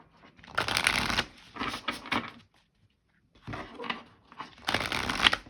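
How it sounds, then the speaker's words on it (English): Tarot card decks are shuffled by hand in several bursts of riffling and flicking, close and fairly loud, separated by a short pause. "This is so much shuffling just on 3 decks here."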